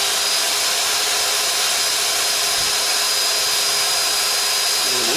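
Power drill boring a hole through rubber and metal on a boat, a steady, loud, high whining hum with no pauses, close up.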